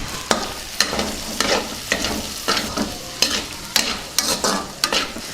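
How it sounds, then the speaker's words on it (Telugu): Goat tripe fries with onion pieces and green chillies in a pan, close and clear, with rhythmic spatula strokes roughly every half second over a constant oily sizzle. "బోటీ వేగిందండి ఇందులో ఉల్లిపాయ ముక్కలు వేసేద్దాం పచ్చిమిర్చి కూడా వేసేద్దాం"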